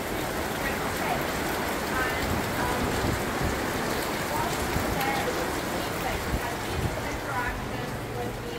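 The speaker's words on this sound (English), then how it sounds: "you join me in an absolute downpour on board the Golden Hind" Heavy rain pours down steadily in a dense, continuous hiss close by on board the Golden Hind ship replica in London, with scattered drips and splashes, and no talking heard.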